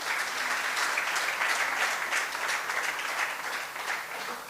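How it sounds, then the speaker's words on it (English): A crowd at a Hindu mandir and community centre grand opening applauds Padma ji and the family, a full, sustained roar of clapping that holds evenly before easing slightly at the end. "big round of applause for Padma ji and the family"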